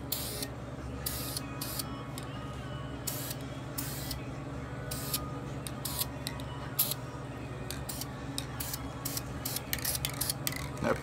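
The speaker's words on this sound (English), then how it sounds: "I'm about to paint the washers now with my chrome paint." Chrome spray paint sprayed onto washers in short repeated hissing bursts, some quick and some longer, over a steady low background hum.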